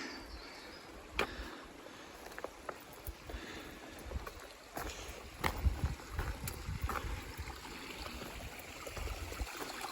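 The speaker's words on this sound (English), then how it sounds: "You want to collect from flowing water like that." Flowing water of a stream on the Appalachian Trail, a soft continuous burble and rush with occasional sharper splashes, moderately quiet and heard alone without talk.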